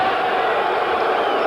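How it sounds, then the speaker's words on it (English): A boxing crowd at the Pacific Coliseum, Vancouver, during a bout between Muhammad Ali and George Chuvalo, lets out a steady, dense roar of disapproval that holds at the same loud level throughout, with no single voice standing out. "Boos coming up from the crowd at the Pacific Coliseum"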